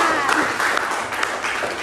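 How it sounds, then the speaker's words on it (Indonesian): Classroom of students clapping together after a chant, a dense steady patter of hands lasting about two seconds, close and moderately loud with some voices mixed in. "Oke, tepuk tangan."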